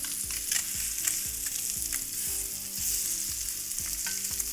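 Cajun cod fries in butter in a pan, giving a steady close sizzle and hiss with faint low tapping underneath; no voices are heard.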